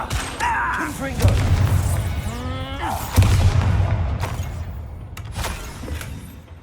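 Confringo fire spell blasting in Hogwarts Legacy, a burst with a booming low thud and crackling debris followed by swirling magical sweeps, then a second heavy impact, all over a dense game soundscape with background music.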